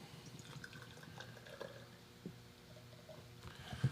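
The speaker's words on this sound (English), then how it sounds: "It sounded nice pouring in there. Glug glug." Beer poured into a glass gives a soft, faint liquid trickle and fizz that runs steadily for a few seconds with a small glug near the end.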